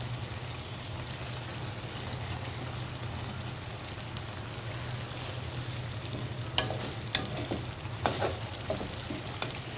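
Tilapia fish frying in a spice paste of chilli, coriander and cumin powders soaked in water, a steady close sizzle with a few sharp clicks of stirring near the end, no talking.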